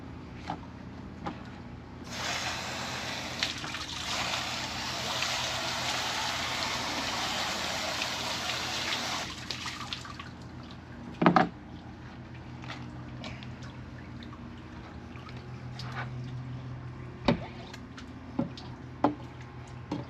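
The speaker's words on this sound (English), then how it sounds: "Give our table a good rinse again" Water rinsing over a fish cleaning table, a hissing spray for several seconds, then quieter drips and a few sharp knocks against the table surface.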